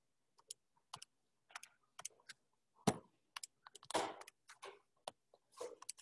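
Keys tapped on a computer keyboard while an equation is entered, irregular bursts of close clicks spread across the stretch with short pauses between groups.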